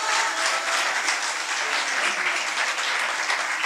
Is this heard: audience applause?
yes